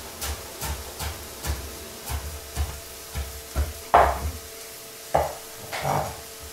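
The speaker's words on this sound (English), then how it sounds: "I'm going to chop up a little bit of fresh cilantro." Fresh cilantro is roughly chopped with a knife on a board: a steady run of close, evenly spaced thuds, with a few louder knocks near the end.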